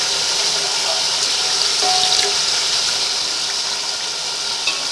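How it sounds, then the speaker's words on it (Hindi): Water is poured into a pot of cooking mutton for biryani, making a steady, continuous gushing hiss with faint clinks throughout. "अब थोड़ा सा पानी डालकर 5 से 10 मिनट के लिए रख देंगे।"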